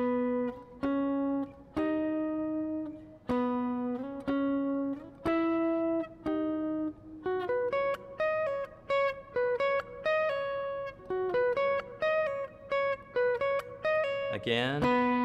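An electric guitar plays the lead line of a song with a sweeping pick pattern, clean sustained notes in a steady rhythm, alone and close, ending with a quick sweep of notes.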